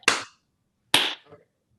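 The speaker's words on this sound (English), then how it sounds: "Let's do a little clap here to start." Two sharp hand claps, roughly a second apart, ring out in a quiet room during a sales podcast conversation, each a crisp, close, loud smack that quickly fades.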